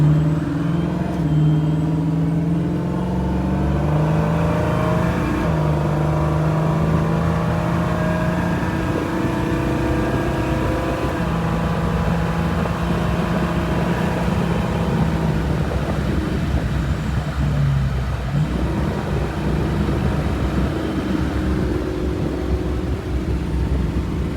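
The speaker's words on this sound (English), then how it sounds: "I'm just going to let the car shift on its own." A 1973 Ford Mustang Mach 1 under boost, shifting gears on its own, heard as a loud steady engine drone with pitch steps as the revs change, continuous and close with no talking.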